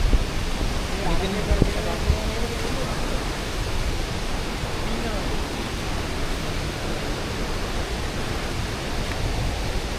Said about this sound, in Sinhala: පොද ගහනවා.